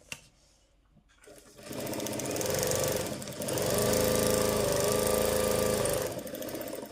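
A sewing machine stitches plain straight lines during a tailoring class, starting after a brief near-silent pause and then running loud and steady with a rapid mechanical whir that dips once midway.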